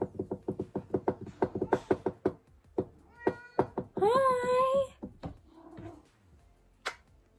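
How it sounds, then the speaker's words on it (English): A pet cat meows repeatedly in short, close, rhythmic calls, followed by a longer drawn-out, wavering meow, then quieter rustling and a final faint chirp. "Here's my kitty cat."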